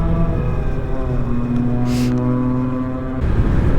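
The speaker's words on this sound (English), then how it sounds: "I'm riding against the wind now, so hopefully the wind noise isn't too bad for you guys" Riding a Zero electric motorcycle into a headwind: a loud, continuous buffeting rumble of wind noise with a thin steady motor whine running beneath it, no voices.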